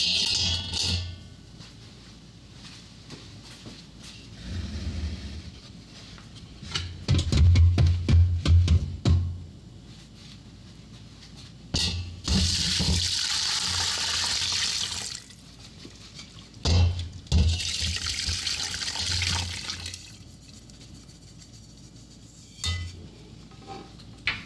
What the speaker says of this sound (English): I'm just going to use this big pan here to strain it into.